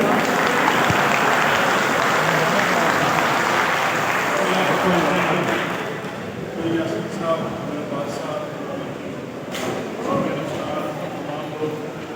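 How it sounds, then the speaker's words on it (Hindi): An audience at a Revenue Directorate reception claps loudly and steadily for about six seconds, then the applause fades to scattered claps under a voice speaking. "तालियां बजाइए।"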